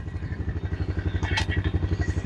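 A Honda Recon ATV engine pulls away in first gear, a close, lumpy single-cylinder putter with rhythmic pulses and a brief clattery rasp midway.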